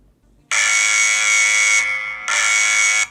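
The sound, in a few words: SENS8 outdoor security camera siren alarm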